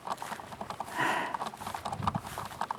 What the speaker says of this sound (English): Alpacas are going out in the big pasture.